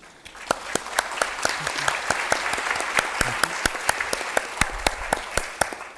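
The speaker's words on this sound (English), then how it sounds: "So please join me in giving a round of applause to our panelists" Audience applause for the panelists at a development financing conference session, steady clapping with distinct individual claps standing out, lasting several seconds at moderate loudness.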